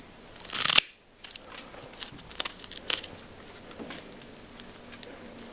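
Snipping through an anthurium plant during repotting: a loud crisp cut near the start, then scattered soft clicks, rustles and crinkles of moss and roots up close.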